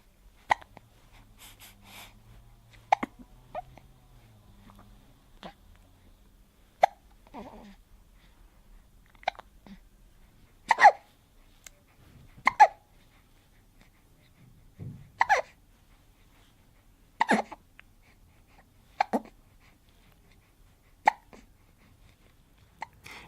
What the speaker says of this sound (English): He seemed always after feeding to develop hiccups.